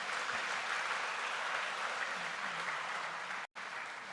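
An audience claps loudly and continuously at a Tamil public talk, a dense steady wash of applause that cuts out briefly near the end before resuming.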